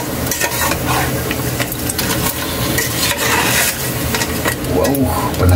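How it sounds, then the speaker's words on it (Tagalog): Pork nilaga being stirred in a pot, a loud continuous scraping and sizzling churn close by that carries on without pause and with no voice over it. "Haluin lang natin ito"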